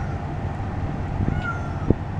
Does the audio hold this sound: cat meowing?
yes